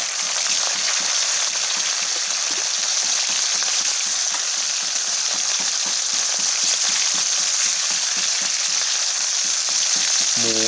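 Steady, close sizzling of pork marinated with makhwaen pepper frying in a hot pan, a dense crackle of oil spatter running continuously with no voices.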